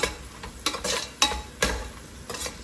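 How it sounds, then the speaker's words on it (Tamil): A ladle stirs mutton mandi biryani masala in a pan, giving about six rhythmic scraping strokes over a soft sizzle, close and moderately loud, with no talk. "இதை அப்படியே நம்ம வந்து கரண்டி வச்சு கிண்டி விட்டுருலாம்"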